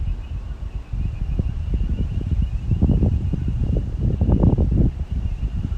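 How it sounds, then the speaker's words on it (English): Strong wind gusts through trees in a steady, rough rush of noise that swells and buffets against the microphone, loud and close throughout with no voices. "It's windy, very windy, Emily"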